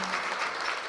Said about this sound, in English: A round of applause for the Sports and Recreation Minister,